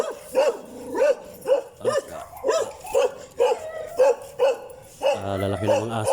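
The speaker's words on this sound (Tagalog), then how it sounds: "Lalaki ng mga aso." Large dogs bark in a steady series of loud, close woofs at roughly half-second intervals, with a deeper, rougher growling bark near the end.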